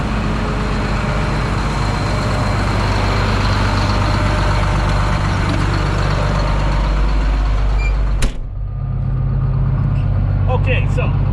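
A truck engine rumbles steadily in a muddy soybean field at harvest, loud and close, with a low idling drone and a sharp hiss-like burst near the end before the engine settles back.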